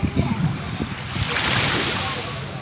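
Surf washes steadily onto the shore at Ulee Lheue beach in Banda Aceh on an overcast, drizzly day, giving a broad rushing wash with a few low thumps of breaking water at close range.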